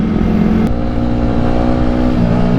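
Yamaha R15 V3 sport bike fitted with a Tridente F22 aftermarket exhaust, steady throaty idle at standard tune, close and loud with a small blip partway through, no talking.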